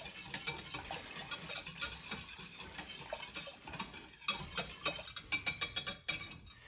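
A small whisk scrapes and clinks steadily through a sugar and flour mixture in a pot, reaching into the corners, with the strokes growing louder and more distinct toward the end; no voices.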